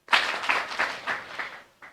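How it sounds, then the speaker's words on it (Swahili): A small audience at a ward candidates' debate claps: about six distinct bursts of clapping, fairly close, thinning and tapering off within two seconds. "tuwapigie makofi"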